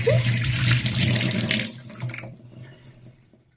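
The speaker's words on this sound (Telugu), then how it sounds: "ఫస్ట్ కీరా ఉంటుంది కదా, శుభ్రంగా కడుక్కొని" A kitchen tap runs steadily as a cucumber is washed beneath it, a loud, close splashing rush that tapers off and stops partway through.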